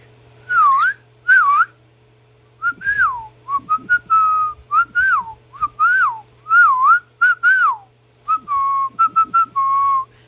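Pet bird named SpongeBob whistling a song up close, loud clear swooping whistles in short phrases with brief pauses between them, alone without talk over a low steady hum.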